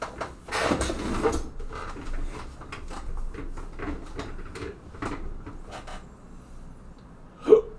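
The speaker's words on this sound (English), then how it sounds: "I got hiccups." A man seated at a desk hiccups a few times at irregular intervals, quiet and close, with one sharper hiccup near the end, amid faint room noise.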